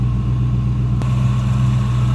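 A 1965 Ford Mustang convertible's 289 V8 idles steadily up close, a deep, even rumble with a single faint click partway through.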